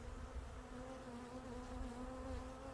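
European honeybees, striped with some dark-bodied ones, swarm a DIY bucket feeder, producing a steady, dense buzzing drone that stays close and constant throughout without any voices.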